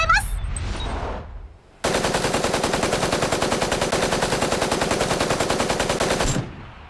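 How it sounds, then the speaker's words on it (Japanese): Rapid automatic gunfire in the Super Mecha Champions video game, a long sustained burst of evenly spaced loud shots lasting several seconds, preceded by brief game sound and a short voice. "銃声が聞こえた。"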